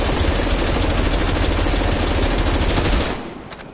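An assault rifle in a Call of Duty game fires one loud, continuous automatic burst for about three seconds, then stops abruptly, leaving a short fading tail.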